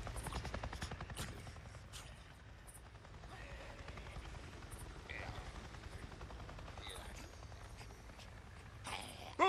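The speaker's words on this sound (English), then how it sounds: "I just saw a goddamn chopper!" A helicopter in the video game Days Gone thumps with a steady low rotor pulse throughout, joined by sharp crackling bursts like gunfire and scattered footsteps, with a sudden louder hit at the very end.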